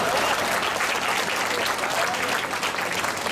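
Audience applause at a Holi-season poetry gathering at Nerul Gymkhana: dense, steady clapping from a crowd, close and loud throughout the short burst.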